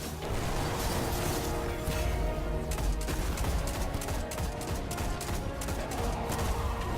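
Rapid sustained gunfire from a hair-trigger weapon in the sci-fi shooter Destiny: Rise of Iron during an Iron Banner match, dense and continuous with sharp bursts throughout, loud and close with no voices over it.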